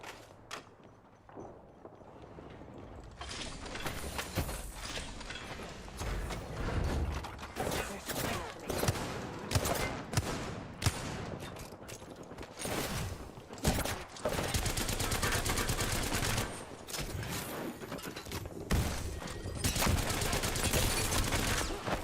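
Gunfire in Apex Legends Season 10 comes in dense bursts of rapid automatic shots mixed with single cracks and footsteps, loud and nearly continuous for over twenty seconds, with some talk faintly underneath.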